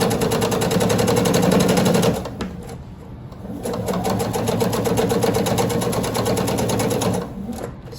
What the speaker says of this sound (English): So as we put the binding on, we just continue along the long edge, just keeping a nice even 1/4 inch seam.